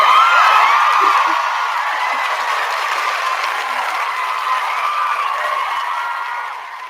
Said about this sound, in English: let me just stop and give Suzy Hansen a round of applause here, please.